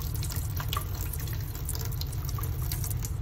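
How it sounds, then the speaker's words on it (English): Water runs from a tap into a lab sink while a volumetric flask is rinsed, a steady close splashing rush with faint drips and clinks over a low hum. "Clean out your volumetric flask in the sink, wash it, and prepare it for the next solution."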